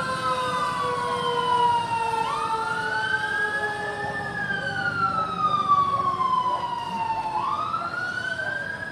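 A fire truck siren wails at a large blaze on a narrow street off Visayas Avenue, Barangay Culiat, Quezon City, rising and falling continuously over the steady rumble of the scene.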